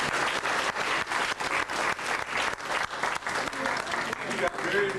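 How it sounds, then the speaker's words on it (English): Audience applause fills a hall at a talk on pyramid power, steady dense clapping from a crowd at close range, continuous for several seconds with slight swells and no pauses. "I'm going to applaud her if you will."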